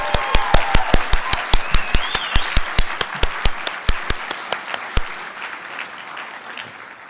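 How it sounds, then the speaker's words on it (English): An audience at an Oakland University School of Nursing BSN pinning ceremony claws out steady, rhythmic applause, with sharp repeated claps loud and near, fading into diffuse clapping and quieting by the end. "Let's have another round of applause congratulating all of our graduates."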